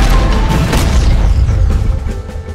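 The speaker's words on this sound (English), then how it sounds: "And explosions." Heavy booming explosions in the video game Jagged Alliance 3 rumble loudly and continuously, with deep low-end blasts overlapping one another and no pauses.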